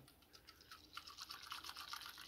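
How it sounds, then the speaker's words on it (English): Organic mushroom coffee is whisked in a cup, giving a soft, quick brushing and scraping that starts faint and grows busier over about two seconds, close and quiet with no talking. "Whisk it together."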